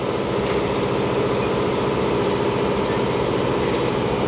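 A cutting machine running steadily at about 850 rpm, a loud, continuous low mechanical drone with an even rumble throughout and no voices.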